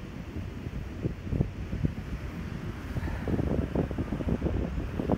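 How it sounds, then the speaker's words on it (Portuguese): Strong wind at the beach in Praia Grande, Brazil, buffets the microphone in a continuous low roar with gusty surges, and faint surf sounds in the background. "Bom, ventando bastante mesmo"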